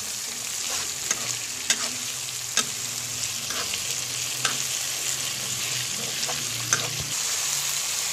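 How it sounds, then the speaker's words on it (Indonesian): Pucung paste for Betawi gabus pucung sautéed in a pan, a steady sizzle with sharp intermittent clicks and scrapes from stirring throughout. "ditumis sampai betul-betul matang, jadi rasa pucungnya hilang."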